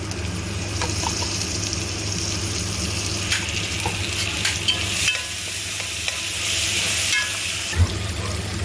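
Ginger garlic paste sizzles steadily in hot oil in a pan for quail gravy, with continuous frying hiss, occasional stirring scrapes and small pops, no speech.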